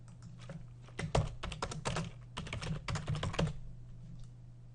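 Rapid keystrokes clatter on a computer keyboard as text is entered, bursts of close, crisp clicks separated by short pauses over a faint steady hum, with no one speaking.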